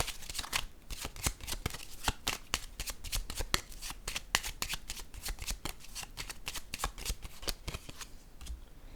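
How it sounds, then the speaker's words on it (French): Tarot cards are shuffled in a rapid, steady run of crisp riffling snaps that carries on for several seconds, close and clear with no talking. "Je vais déposer une carte ici."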